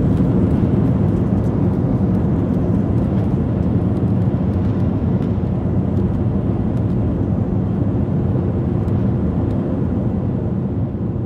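Steady, loud low rumble fills an airplane cabin just after landing at LaGuardia Airport in New York, a continuous engine and air hum with no talking.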